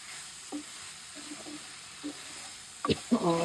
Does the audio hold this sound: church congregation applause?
no